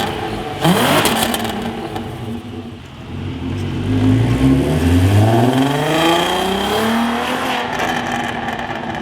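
Volkswagen Scirocco engine on its stock factory exhaust, revved up repeatedly so the pitch climbs and falls in loud close sweeps, with a steady idle drone between rises and no talking.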